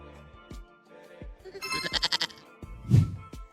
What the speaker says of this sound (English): How do you say goat?